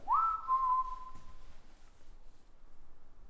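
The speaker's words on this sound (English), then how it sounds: "Sure, you can whistle." A single short whistle, rising then holding a steady tone for about a second, sounds faintly against a quiet background.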